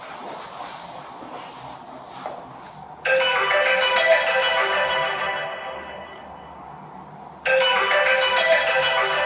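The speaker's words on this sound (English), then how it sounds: "So that's her phone going off." A mobile phone ringtone plays loudly inside a house, starting abruptly, holding for several seconds, pausing briefly, then starting again over faint background noise.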